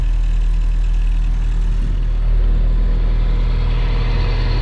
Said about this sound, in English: Engine still sounds smooth.